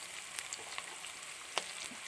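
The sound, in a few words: chopped shallots frying in a pan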